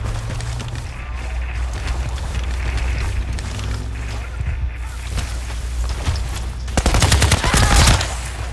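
Bursts of automatic gunfire in the Battlefield Play4Free game on the Sharqi map, sporadic shots under a low rumbling backdrop, building to a loud dense volley near the end.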